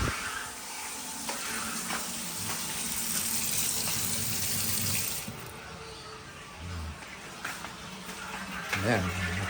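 Water runs steadily from a tap in a house with a hissing splash, then fades toward a trickle as the water pump motor is switched off; people talk intermittently over it.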